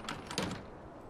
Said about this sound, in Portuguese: Fechar a porteira.